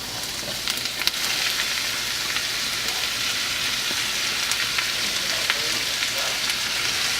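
Garlic and half an onion frying in butter in a pan, giving a steady, even sizzle that holds at the same level throughout, close up, with no talking over it.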